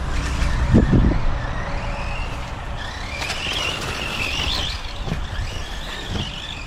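An LC12B1 RC car runs laps on a raceway track, a continuous motor whir that rises into a higher whine midway, with a few sharp knocks.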